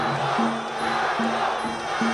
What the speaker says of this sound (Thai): ระหว่างนี้นั้นฟังเสียงเชียร์ของชาวจีนกันไปก่อนครับ